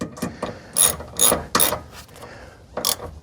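Ratchet tightening exhaust hanger bolts on a Ford F150 Tremor, with quick clicking bursts of pawl ticks and short metallic cranks, close and unaccompanied.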